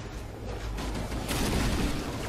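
Dense, continuous rumble of explosions in Halo CE Anniversary rolling together, loud and close, growing brighter and heavier partway through with no pauses between blasts.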